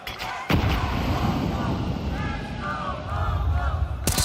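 A grenade explosion in Counter-Strike 2 at a major esports tournament, a sharp loud blast followed by a rumbling tail, heard under continuous commentator talk.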